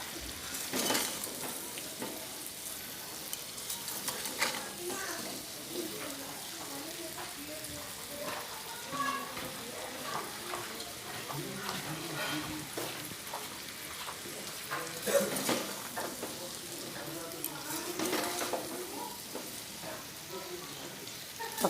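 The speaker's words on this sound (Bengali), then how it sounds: "এর মধ্যে আমি কড়াইয়ে তেল দিয়ে মশলাগুলো হালকা গরম তেলে ফুটিয়ে আমটা দিয়ে আমি ভালো করে ভেজে নিচ্ছি।" Small pieces of raw mango fry with spices in hot oil in a wok, a steady close sizzle broken by stirring scrapes and occasional clinks of a spoon against the pan, running continuously.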